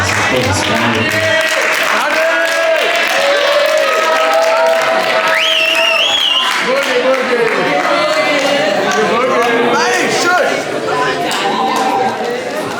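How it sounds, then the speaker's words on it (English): An audience at a religious kumzitz gathering claps and cheers loudly and continuously, with crowd chatter and shouts mixed throughout the sustained applause. "Round of applause, of course. Round of applause."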